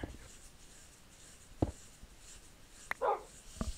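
A dog barks a few times in a Minecraft game, short sharp yips spaced apart over quiet background.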